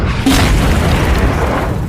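A tank cannon fires and destroys a German Panzer tank in a World War II film, a loud, deep boom with a sustained rumbling roar that carries through the full two seconds without fading.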